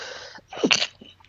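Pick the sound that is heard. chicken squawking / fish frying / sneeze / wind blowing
sneeze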